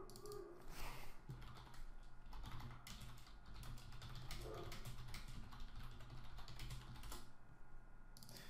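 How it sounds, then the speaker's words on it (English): Rapid typing on a computer keyboard plays during a game session, with quick irregular clicks and clatters running continuously at a soft, close level and no speech. "why do I prioritize typing to these guys"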